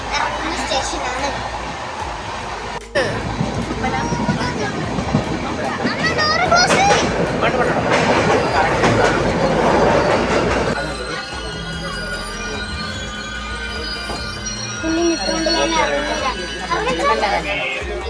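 A train pulls into a station in Ernakulam, Kochi, with wheels squealing on the rails and carriages rumbling, loud and close under a steady din of passenger chatter and voices.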